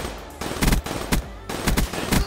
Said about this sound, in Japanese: 右ですげー銃声鳴ってる